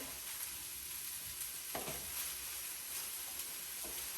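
Broccoli and steak pieces fry in a hot pan with a steady, faint sizzle, broken by a couple of brief scraping stirs.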